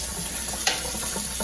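Hot water runs steadily from a tap after a Rheem tankless on-demand heater is installed, a constant close hiss and splash lasting throughout.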